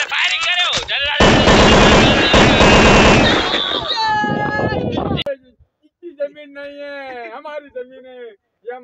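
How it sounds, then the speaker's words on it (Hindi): Gunfire in a Hindi short film, a dense loud burst of rapid shots lasting a few seconds mixed with shouting, then fading into voices talking after the firing stops. "चले चले चले फायरिंग करो"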